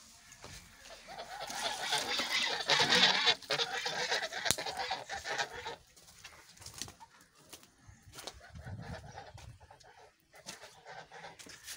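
Village ducks quack and honk in a busy cluster, loudest early on and then thinning into scattered calls, with occasional low handling noises beneath.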